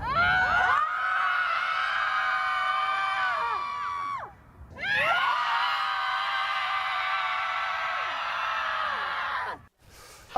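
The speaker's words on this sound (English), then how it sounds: "Your moms scream in a specific way." Several women scream together in a loud, sustained high-pitched chorus held for several seconds, break off for a breath, then surge again for a second long scream before cutting out.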